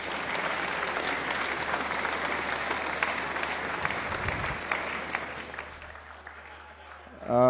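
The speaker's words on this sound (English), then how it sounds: "Please, can you give them a round of applause?" Sustained applause from a crowd, steady clapping that fades toward the end before a voice cuts in.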